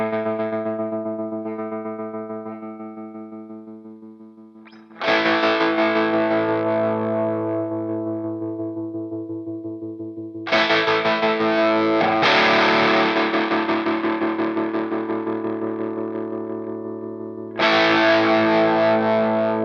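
Distorted electric guitar through an Ernie Ball Expression Tremolo pedal, three sustained chords struck in turn, each ringing out loud and decaying with a pulsing tremolo, no voices.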